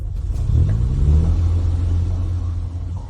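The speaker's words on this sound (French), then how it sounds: "Voiture. C'est une voiture. Ils sont de retour." A car approaches with a steady low engine rumble that swells and then holds, loud and close, with no voices.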